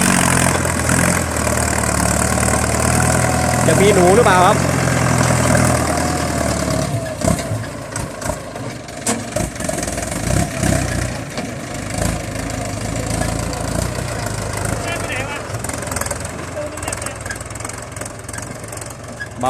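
A Ford 6600 tractor works near a sugarcane field pushing up paddy-field banks, its engine idling loud and close with a rough, knocking rumble that then chugs unevenly, while someone talks over it at times.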